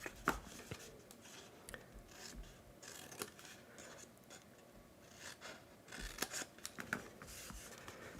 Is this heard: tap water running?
no